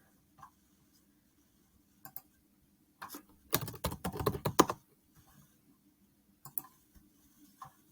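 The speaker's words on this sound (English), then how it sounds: "you can even type your signature in this form" Someone types on a computer keyboard while filling in a form, producing sparse, faint key clicks. A short, denser burst of rapid tapping comes midway, and no one speaks.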